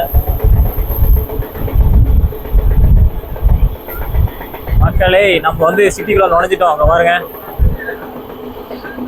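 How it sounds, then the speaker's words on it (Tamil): A train rolls along the track as it enters the city of Hosur, its steady rumble and rhythmic clatter running beneath someone talking nearby. "ரயில் போயிட்டு இருக்கு பாருங்க"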